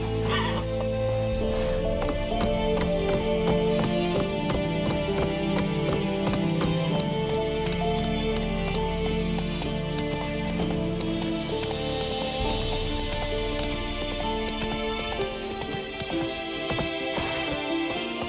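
The horse Roach galloping in The Witcher 3, steady rapid hoofbeats running continuously beneath a swelling orchestral music score throughout.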